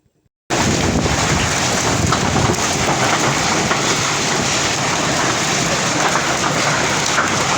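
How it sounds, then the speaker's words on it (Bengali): Hailstones pour down in a storm, a dense, loud and continuous hiss and patter that starts suddenly after a half-second of silence and holds steady with wind rumble and no voices. "বৃষ্টি ওরকম হচ্ছে না, পাথরই পড়ছে"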